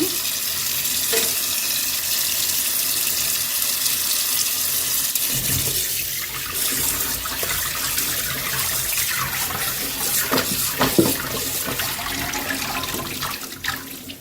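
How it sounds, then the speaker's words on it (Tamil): Vegetables being rinsed and drained in a kitchen: running water splashes steadily and loudly throughout, with occasional clatter and sloshing as the pieces are handled. "இந்த மாதிரி அலசி வடிகட்டி வச்சுக்கோங்க"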